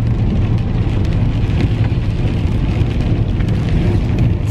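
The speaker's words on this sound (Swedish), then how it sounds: "Om det inte regnar, vilket det gör nu." Steady rain falls outdoors in Norrköping, a dense continuous hiss of drops on surfaces at close range with no talking, holding an even level throughout.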